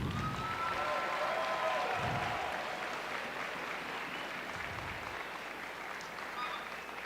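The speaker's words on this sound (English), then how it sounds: "Big round of applause." A crowd applauds at the Special Olympics Wyoming Summer Games opening ceremony at Gillette's CAM-PLEX, sustained clapping that fills a large venue, with a few louder low thumps and faint tonal sound drifting above.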